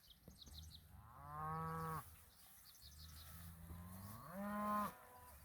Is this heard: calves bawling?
yes